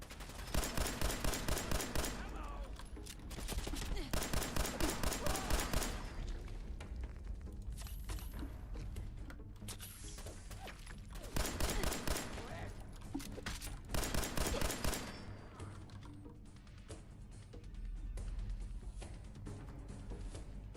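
Rifle fire in Fallout 4: dense rapid bursts of shots in several volleys, loud and sharp, separated by quieter stretches of game sound.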